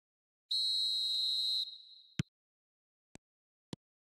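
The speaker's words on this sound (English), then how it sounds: "There's the whistle and here we go." A referee whistle in a football video game blows one long steady shrill tone to start the match, followed by a few sharp isolated clicks in otherwise near silence.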